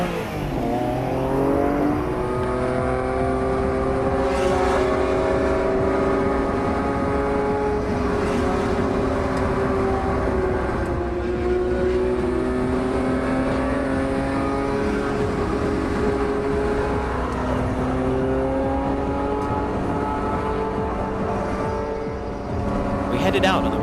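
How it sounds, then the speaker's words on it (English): Several heavily modified Honda NSX sports cars cruise and chase on Japan's Wangan Expressway, their engines droning steadily with rising and falling revs throughout, loud and continuous under a constant road roar. "We headed out on the Wangan Expressway and played a little game of tag with 11 highly modified NSXs."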